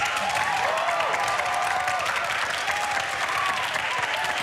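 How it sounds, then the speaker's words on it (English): Studio audience at a panel discussion show applauding the panellists, a steady dense wash of clapping sustained throughout at fairly even loudness, with no talk over it. "Guys, give them a round of applause."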